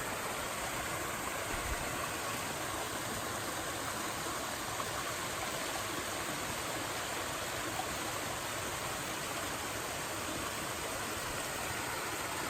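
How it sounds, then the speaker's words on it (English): A small waterfall on a clear creek in the Arkansas wilderness pours in a steady, dense rush that stays constant throughout, close and even with no voices. "Looks like a pretty nice little waterfall over here."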